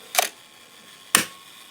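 Two crisp shutter clicks from a Yashica 35 MF film camera, about a second apart, sharp and close in an otherwise quiet room.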